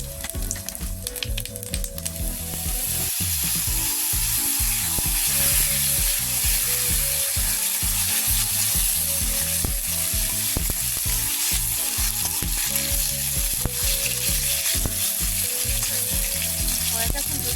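Whole cumin seeds, bay leaf and two dried chillies fry in hot oil in a wok. The sizzle is loud and steady, with crackles, stirring knocks and scrapes against the pan over the continuous hiss.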